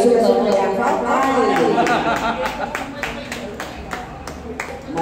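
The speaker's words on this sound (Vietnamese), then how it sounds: "Xin cái lần này cho Xuân Cường một tràng pháo tay." Audience at a stage event clapping loudly in a continuous patter, with crowd chatter and voices mixed in; the applause is close and dense, easing slightly toward the end.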